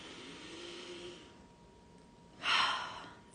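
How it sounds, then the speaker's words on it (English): One deep, audible breath drawn in during a guided grief meditation, a brief close breathy rush after soft quiet room tone. "And deep breath in."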